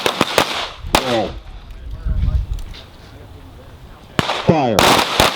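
Sharp, loud handgun shots fired on command during firearms instructor training on a range, a couple of quick bursts of several cracks early and again at the end, separated by a quieter stretch with a voice calling commands.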